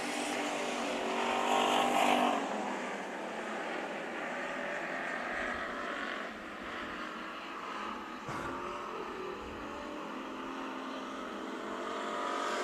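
Race cars roaring around Bakersfield Speedway during a heat race, a continuous loud engine drone that swells as cars pass, heard from trackside with no voices over it.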